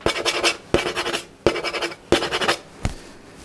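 Scratching on a violin plate in a maker's workshop: four rough, rasping strokes, each close and fairly loud, repeated in a steady rhythm with brief pauses between them.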